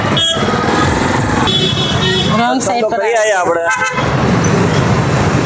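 Busy street traffic in Navsari, with motorbikes and cars running on the wrong side of the road. Repeated horn honks and engine noise sound close by, and people talk over it.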